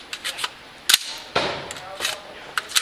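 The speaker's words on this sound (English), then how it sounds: "She'll clear the rifle, lock it open" Rifle action being cleared and locked open at a rifle league range: sharp metallic clacks and snaps, a few distinct close clicks spaced across a few seconds, with faint background noise.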